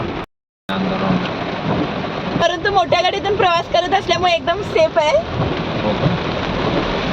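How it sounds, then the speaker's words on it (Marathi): Heavy rain roars steadily outside as a person talks over it. The downpour continues beneath the speech with a brief dropout early on. "बाहेर खूप मुसळधार पाऊस चालू आहे"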